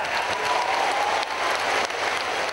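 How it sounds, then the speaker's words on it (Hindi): An audience in Pakistan gives a standing ovation, dense steady applause filling the whole moment at an even level with a faint tone running underneath. "भरपूर तालियां।"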